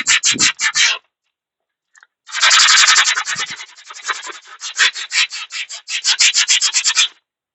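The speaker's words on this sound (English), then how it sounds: "I'm just gonna do a little bit of sanding right now." Hand sanding a heat-softened metal hatchet head, rapid rhythmic rasping strokes in close bursts, a pause of about a second, then longer runs of quick scrubbing strokes.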